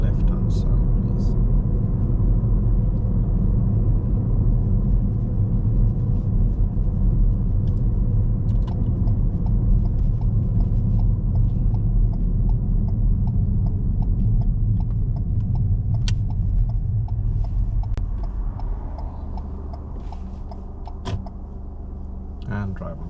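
A learner driver's car slows and pulls over to a stop at the left-hand roadside during a driving test, its steady engine and road rumble dropping to a quieter idle near the end, with speech heard over it.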